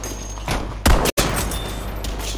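Gunfire from the Battlefield video game, a loud sustained burst of rapid shots with a sharp blast near the middle, cut off by a brief dropout before the firing carries on.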